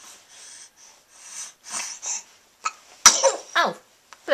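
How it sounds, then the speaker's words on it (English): A baby sneezes several times, with small snorts and breathy sniffles between them, close and fairly loud, ending in a sharper sneeze burst near the end. "Just another sneeze."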